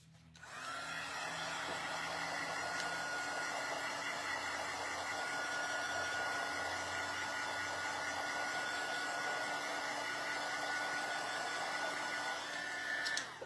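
A hair dryer blows a continuous, even whoosh over freshly washed stencils, running steadily close by from start to finish.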